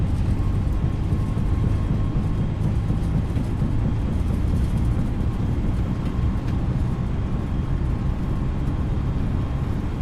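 A simulated Airbus A320neo's engines hold takeoff thrust on the runway at Sydney in Microsoft Flight Simulator 2020, a steady, loud, broad roar that stays even throughout with no speech over it.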